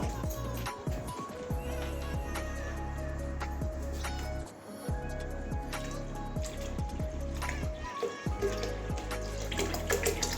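Tap water runs steadily into a pot of washed mung dal in a home kitchen, a continuous close splashing broken briefly twice, with clattering and other kitchen noise around it.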